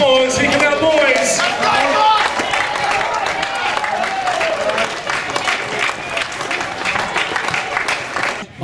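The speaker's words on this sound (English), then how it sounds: "Give a round of applause." A football crowd at a Swannies versus Eagles match applauds as the home team runs onto the ground, broad clapping and cheering with voices calling out over it, easing off slightly near the end.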